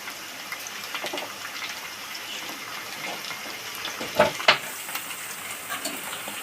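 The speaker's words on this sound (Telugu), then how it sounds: "కొంచెం లైట్గా వేయించుకోవాలి, ఎక్కువగా వేపుకోకూడదు." Pigeon pieces fry in a pan with curry leaves, giving a steady, moderately loud sizzle that flares into a couple of sharp crackling bursts near the end.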